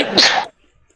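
A single sharp, loud sneeze bursts out close by and stops abruptly, followed by near silence.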